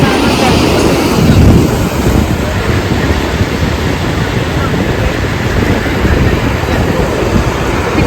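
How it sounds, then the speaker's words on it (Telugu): Sea waves break and wash onto the sand at Bheemili beach near Vizag, a steady, loud roar of surf mixed with wind buffeting the microphone throughout. "ఇక్కడ చూడండి అలలు అయితే కరువులో వస్తున్నాయి"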